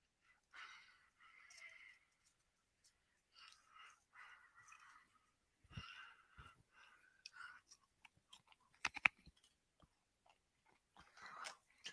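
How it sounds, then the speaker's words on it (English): Wheat Thins crackers crunch up close in bursts of chewing and biting, some sharp and loud, separated by quiet pauses. "If you hear any crunching, it's me eating some wheat thins."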